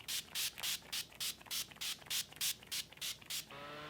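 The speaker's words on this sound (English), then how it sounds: "I'm going to set my makeup with the Urban Decay All Nighter Setting Spray." Urban Decay All Nighter setting spray sprayed onto a face in about eleven short, crisp pumps in a quick, steady rhythm, close and fairly loud, followed by a brief fading hiss.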